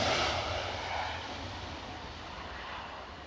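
Quiet aircraft takeoff at Edinburgh Airport, a distant broadband jet roar that fades slowly over a few seconds with no talk.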